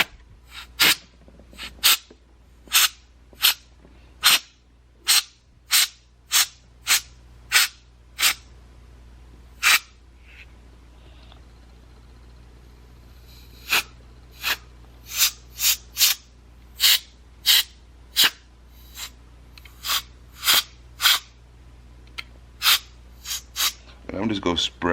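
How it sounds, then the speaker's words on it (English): An air compressor nozzle blowing dust and debris out of a .45 ACP pistol, a series of short, sharp hissing bursts repeated roughly every second, close and loud, with a brief pause midway before the bursts resume. "Alright, so I'm gonna bring my air compressor out."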